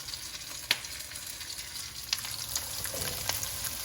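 Broccoli stir-fried with chicken in a pan, a continuous close sizzle with a few sharp spatula scrapes and taps over the steady frying hiss.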